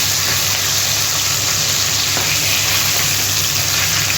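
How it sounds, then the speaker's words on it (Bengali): Hilsa fish pieces fry lightly in oil, producing a steady, dense sizzle that stays loud and close throughout, with faint utensil taps underneath and no talking. "মাছটা আমি খুব একটা কড়া করে ভাজবো না, হালকা করেই ভেজে নিচ্ছি।"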